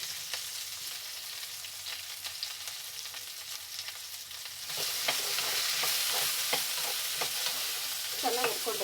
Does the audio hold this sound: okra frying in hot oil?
yes